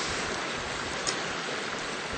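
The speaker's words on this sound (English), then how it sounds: "you can see the brook and hear the brook" A babbling brook outdoors, steady broadband rushing and trickling of flowing water, soft and continuous throughout with no voices.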